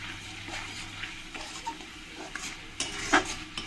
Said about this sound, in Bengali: আবার কিছুক্ষণ মশলাটাকে ভালো করে কষিয়ে নেব